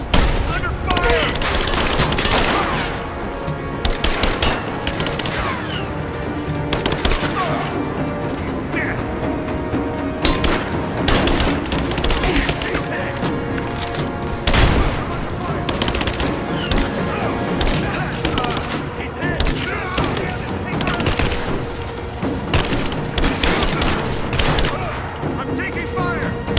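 Rapid, dense bursts of gunfire and booming impacts fill a firefight in Rise of the Tomb Raider, shots cracking continuously at close range with shouting voices mixed in.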